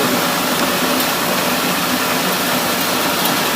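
A destoner combined rice mill for paddy processing runs with a loud, steady, broadband mechanical roar, unbroken and close, with no voices.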